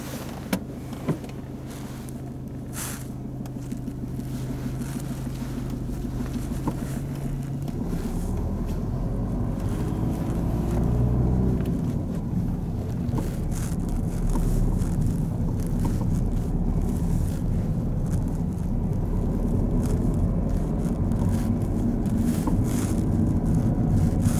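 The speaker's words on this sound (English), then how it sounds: "Drive on when you're ready, Frank." A car on a driving lesson pulls away and drives on, its engine hum rising from a low idle into a steady road rumble with tire and wind noise, fairly close and continuous without talk.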